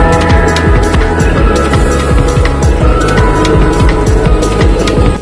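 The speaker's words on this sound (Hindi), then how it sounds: "सामने से एक ट्रेन और ओवरटेक करने के लिए आ रही है।" Train rolling past at a station, seen from a stopped express at night, a loud close rumble with rapid rhythmic wheel clatter over rail joints running throughout, no voices.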